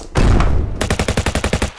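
A tabletop wargame tank fires everything at a howitzer: a loud blast of cannon fire followed by a rapid, evenly spaced burst of machine-gun shots, close and punchy with no talk.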